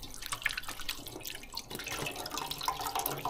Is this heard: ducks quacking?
no